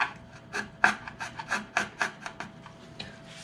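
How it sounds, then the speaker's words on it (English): Sandpaper rubs back and forth over wooden guitar side braces in short, quick rasping strokes, close and fairly loud, about a dozen strokes in a quick uneven rhythm. "finish them up with sandpaper"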